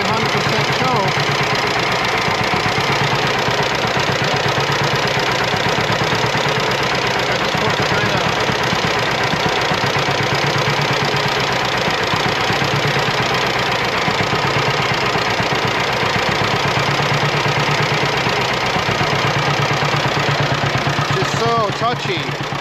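A 1941 Ford Model B engine idles on full choke, a loud, close, steady rumbling throb that runs unbroken throughout.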